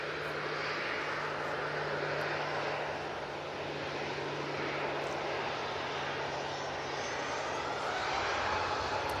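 Ryanair jet arriving from Dublin on approach to Manchester Airport, a steady broadband engine roar held at a constant level throughout, with no voices over it.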